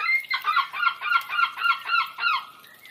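A run of about nine rhythmic, nasal squawking calls from a seagull on a beach, fairly close and clear, repeating in a steady pattern before trailing off.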